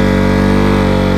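A KTM RC200 motorcycle engine idles steadily at close range, a loud, even mid-pitched hum with a regular low pulse and no speech over it.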